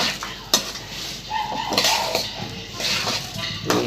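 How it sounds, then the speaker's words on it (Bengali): Rice being fried and stirred in a pot for Bengali basanti pulao, with a ladle scraping and clinking against the metal and a soft sizzle underneath, marked by a few sharper knocks. "এটা 2 থেকে 3 মিনিট ভেজে নিব চালটাকে ভালোভাবে"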